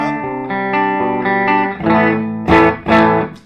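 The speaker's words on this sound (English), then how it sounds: "Here's the guitar through the amp without any pedals actually on. There's the bridge pickup." Clean electric guitar on the bridge pickup played straight into an amp with no pedals, no reverb or effects, a loud run of sustained notes and strummed chords ringing one into the next.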